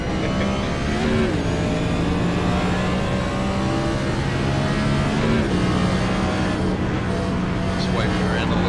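NASCAR stock car engine in a racing video game, a steady loud roar with shifting revs and whining pitch sweeps, droning continuously throughout with a voice talking faintly over it.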